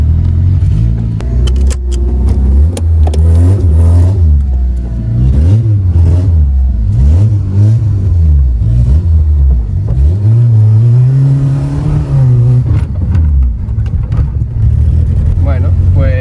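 A Peugeot 106 Sport engine, revived after years abandoned, idles roughly and revs up and down repeatedly, loud and close, with the pitch rising and falling in uneven bursts.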